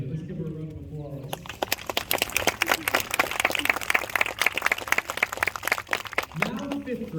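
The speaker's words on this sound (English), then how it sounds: "Let's give her a round of applause." Applause from a school audience at a 5th grade graduation ceremony in Titusville, Arlington NY, a dense burst of clapping that follows brief speech and lasts several seconds before a voice returns.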